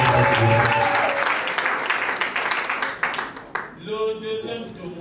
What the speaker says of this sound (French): des acclamations pour notre commune